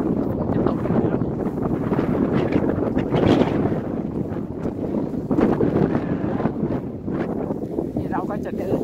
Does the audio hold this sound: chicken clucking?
no